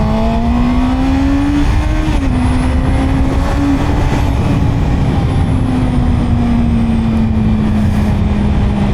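A Honda CB650R inline four-cylinder motorcycle engine revs loud and high, its tone rising and shifting as it pulls through successive gears, with steady wind roar underneath and no talking.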